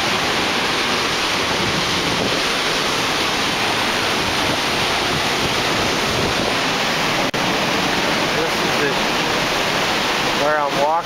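A waterfall pouring out of a small hole in a hollowed-out rock, a loud, close, continuous rushing roar of water that holds steady throughout, with a brief whistle-like tone near the end.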